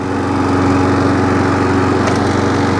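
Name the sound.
pull-starting lawn mower engine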